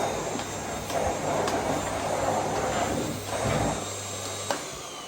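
A Miele C3 125 cylinder vacuum cleaner runs steadily throughout, a continuous motor drone with a low hum and airy hiss, and a few faint knocks and clicks as the head moves.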